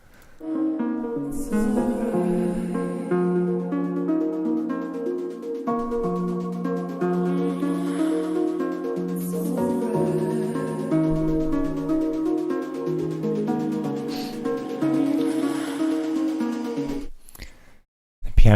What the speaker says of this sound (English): sounds like this piano is a little bit out of key